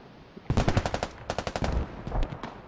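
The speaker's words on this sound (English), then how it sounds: "MG3 holding the road." MG3 machine gun firing in a video game, loud, rapid bursts of shots at close range, with one sustained burst, a brief gap, then another burst and scattered shots after it.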